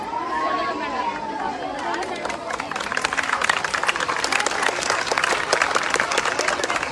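Crowd applause at a village Teeyan Teej festival stage event in Punjab, steady dense clapping building over several seconds with murmured crowd chatter mixed in.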